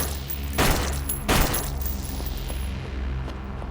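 Rapid gunfire bursts in the horror game Flesh Made Fear, two loud rattling volleys over a droning, rumbling background.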